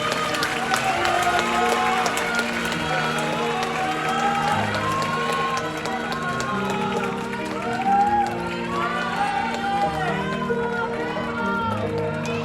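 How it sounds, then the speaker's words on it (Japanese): Audience applause at the Miss International pageant in Tokyo Dome City Hall, sustained clapping with crowd noise under music and a host's voice talking throughout. "もう一度大きな拍手を。"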